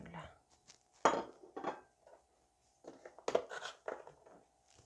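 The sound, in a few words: pot and utensils handled while cooking borscht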